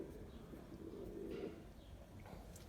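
Soft low cooing of pigeons, a gentle warbling murmur rising and falling, faint and close with light background noise.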